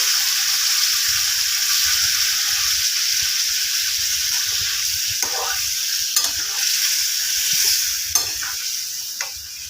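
Dalia khichuri with vegetables bubbling in a pot after a little water is added, giving a steady close hiss with a few scattered louder pops and stirs over about ten seconds, no voices.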